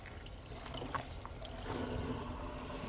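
Tap water runs steadily over a corned beef roast being rinsed in a kitchen sink, a continuous close splashing trickle with no talking.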